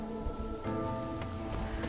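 Steady, soft rain patters continuously in the Infinity Nikki game world, a dense even hiss of droplets with a faint tonal hum underneath and no clear separate events.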